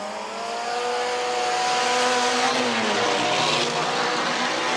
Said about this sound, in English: Okay, blue flags up all around and they're away and racing.